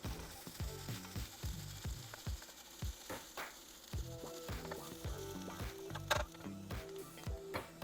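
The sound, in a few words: prawn puttu being stirred and roasted dry in a pan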